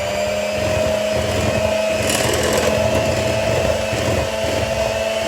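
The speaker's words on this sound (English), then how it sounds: "you can blend them the rest of the way with your hand mixer on a low speed" A hand mixer whirs on low speed through chocolate cupcake batter, a steady close motor hum with a faint beater rattle, running alone without talk.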